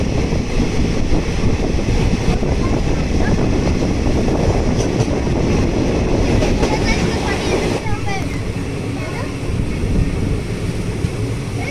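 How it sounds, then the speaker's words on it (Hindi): The Sewagram Express, made up of old ICF coaches, rumbles into Igatpuri railway station on a foggy day with a dense, continuous roar of wheels and carriages, and faint voices blend into the noise. "Have entered Igatpuri railway station."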